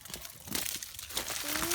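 Footsteps crunch and crackle over ice-glazed ground in an Oklahoma garden after an ice storm, a quiet run of brittle crunches with a person's voice imitating the crunching over it.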